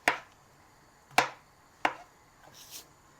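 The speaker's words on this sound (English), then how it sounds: "let me just chop this up real quick before I can fry." Mushrooms are chopped on a cutting board ahead of frying, three sharp, well-spaced knife strikes heard up close, followed by a couple of softer scrapes in an otherwise quiet kitchen.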